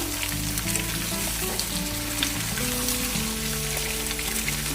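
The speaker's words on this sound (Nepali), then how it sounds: "अब यो प्याजलाई पनि हल्का एकछिन फ्राई गर्नुपर्छ।" Onions fry in a pan for chicken curry with a continuous even sizzle, and faint steady tones sit underneath throughout.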